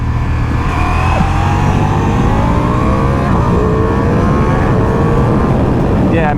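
A 2024 Ducati Diavel V4 motorcycle engine pulls hard through a near 90-degree turn, a loud, steady roar with rising tone under heavy wind rush, heard close from the rider's position.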